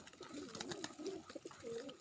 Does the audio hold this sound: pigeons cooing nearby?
yes